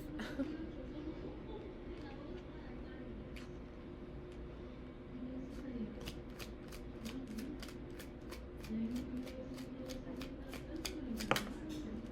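Tarot cards are drawn and shuffled from a deck, a rapid run of crisp card flicks and slaps building near the end over a steady low room hum.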